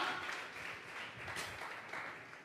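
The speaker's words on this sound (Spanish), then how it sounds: "Vamos a regalarle ofrenda de palmas al Dios de la gloria." A congregation claps during a Sunday church service, a soft, steady wash of applause from a crowd at some distance.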